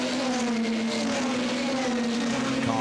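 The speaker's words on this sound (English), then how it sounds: "Cars sound and look absolutely superb." DTM touring race cars at Zolder in 2019, a steady engine drone holding one sustained tone throughout, loud and continuous with no talk over it.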